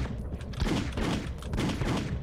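Rapid bursts of gunfire from the video game In Cold Blood, a dense fusillade of shots rattling continuously and loudly for a couple of seconds with no voices over it.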